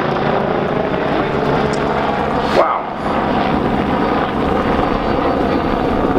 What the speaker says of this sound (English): Do aerobatics in a helicopter, quite unique skill